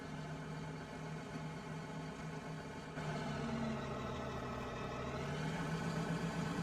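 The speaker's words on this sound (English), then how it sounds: "Well, the tractor's a little small for the job" A small tractor engine in Farming Simulator 15 runs steadily, a constant mid-pitched drone that grows slightly louder partway through, with no talk over it.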